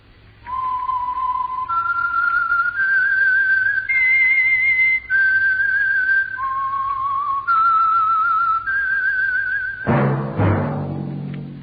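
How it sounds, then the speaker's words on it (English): A whistled theme for The Whistler radio program sponsored by Signal Oil: a clear, steady solo melody of sustained notes stepping up and down in pitch, ending with a sudden burst of brassy orchestral music. "That whistle is your signal for the Signal Oil program, The Whistler."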